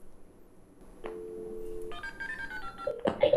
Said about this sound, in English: Can I call Santa?